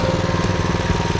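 A Honda HS 622 snow blower engine runs with a steady, loud, pulsing mechanical chug that throbs evenly throughout, close by and with no voices over it.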